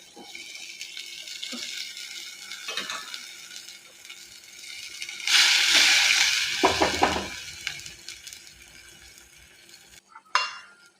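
Washed taro leaves are added to a hot curry pan and stirred in. A quiet background hiss flares into a loud, wet sizzling rush as the damp leaves go in, then fades into uneven stirring scrapes and a final brief clatter.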